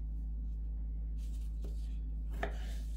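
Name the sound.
chopping ingredients with a knife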